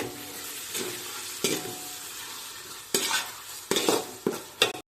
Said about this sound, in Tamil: இஞ்சி பூண்டு பேஸ்ட் ஆட் பண்ணதுக்கப்புறம் நல்லா கலந்து விட்டுக்கலாம்.